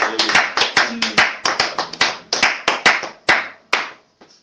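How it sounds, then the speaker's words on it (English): A church congregation claps loudly and close up in quick, rhythmic sharp claps over about four seconds, slowing and thinning out toward the end. "We give a hand of applause for Jesus."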